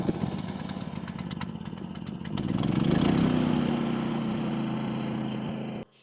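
A generator engine on an off-grid property fires up and quickly swells into a loud, steady mechanical running drone nearby, humming on evenly until it cuts off at the end.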